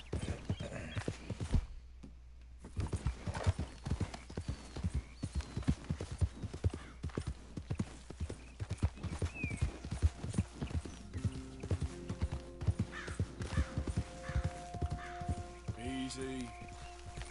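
Horse walking with steady, evenly spaced hoof clip-clops close by for the whole stretch, some creaking tack and a faint whinny-like tone near the end.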